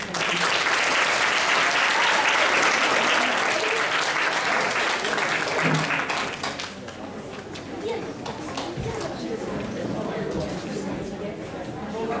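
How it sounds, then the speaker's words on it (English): Audience applause at a school graduation ceremony, a dense sustained burst of clapping from a large crowd that eases to a thinner, quieter patter after about six seconds, with faint chatter underneath. "please give them a welcoming round of applause"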